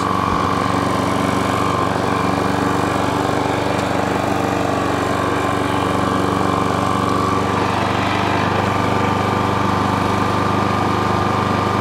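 A self-propelled lawn mower engine runs steadily at idle, a loud, constant mechanical drone with a buzzing hum that holds unchanged from start to finish.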